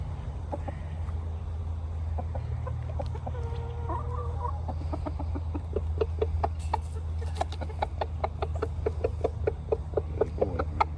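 Guinea fowl give repeated sharp clucking calls, coming faster and louder toward the end, over a steady low rumble with a few softer calls early on.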